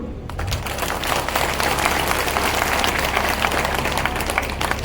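A crowd applauds steadily throughout, a dense wash of many hands clapping at a fairly even level with no speech over it.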